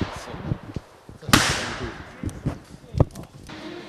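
Shotgun shots at an outdoor senior clay shooting competition, two sharp cracks about two seconds apart ringing out at middle distance over crowd murmur and scattered knocks.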